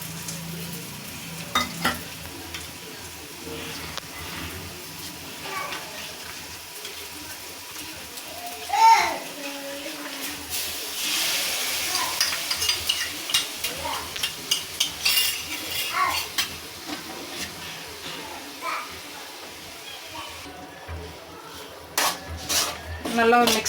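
Mutton liver coated in masala is stirred in a pan, giving a steady low sizzle with repeated spoon scrapes and metallic clinks against the pan over a long stretch, with a voice heard at times.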